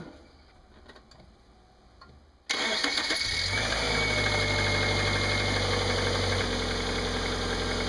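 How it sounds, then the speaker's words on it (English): A Subaru car engine cranks and catches, then settles into a steady, loud idle after a few seconds of quiet. "Fire up the car and see if I get a code or anything."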